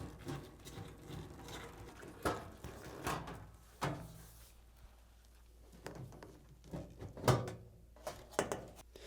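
Removing the six back-panel screws from a Hoover washing machine with a 7mm socket: scattered close metallic clicks, knocks and scraping handling sounds at an uneven rhythm, fairly quiet.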